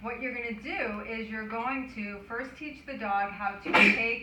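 A dog sneezes once, a sharp, quick burst near the end that cuts through a trainer talking during a trick-training session.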